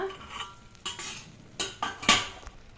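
A ragi flour and broken wheat upma is stirred in a pan on a low flame, with a run of scraping, clinking utensil strokes at irregular intervals over a faint sizzle.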